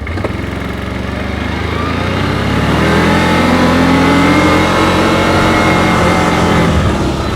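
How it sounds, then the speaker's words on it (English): A 2024 CFMoto CForce 800 Touring ATV drives in high range and work mode on a trail, its engine a steady close mid-pitched drone that rises as it gathers speed, with no talking. "So now let's go high range and work mode, and we'll drive down through here."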